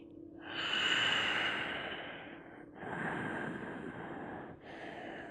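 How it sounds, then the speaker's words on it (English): Slow, deep breaths held during a yoga crow pose sequence: a long audible exhale, then two more breathy inhales and exhales in an even rhythm, soft and close, with no speech. "Take a couple breaths."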